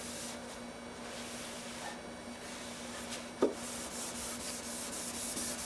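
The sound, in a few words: sanding guitar body finish by hand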